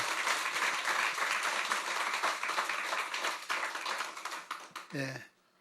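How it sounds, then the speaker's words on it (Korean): Sustained applause from a large congregation fills a church during a Sunday service, many hands clapping densely, then it thins and stops near the end. "박수 소리가 더 컸어요."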